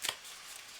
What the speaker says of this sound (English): I think I did a bit of shuffling already